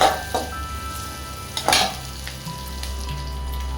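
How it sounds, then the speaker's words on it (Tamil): Onions sauté in a pan toward golden brown for a semiya biryani, a steady close sizzle with a couple of brief spoon scrapes against the metal and no speech. "வெங்காயம் வந்து நல்லா கோல்டன் ப்ரௌன் ஆகணும் நல்லா வதக்கி விட்டுட்டே இருந்தேன்"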